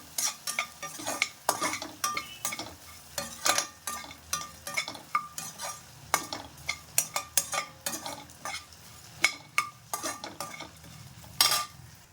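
Vegetables for a veg kurma being stirred and sautéed in a hot pan, with repeated scraping strokes of a spoon against the metal over a soft sizzle, close and fairly loud, with no talking.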